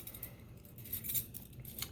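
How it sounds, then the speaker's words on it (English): Metal keys jangle and clink as they are slipped onto the clip of a CRKT Guppie multitool, a short burst of close, bright rattling lasting under two seconds. "So I put my keys on there, and it goes on there just like this."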